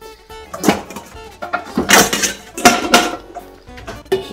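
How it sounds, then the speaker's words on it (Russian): A metal lid is set onto a cooking pot on a stove heating water, giving several close clanks and clinks with a rattling settle, loud and without talk. "Сейчас крышечку возьмем, закроем."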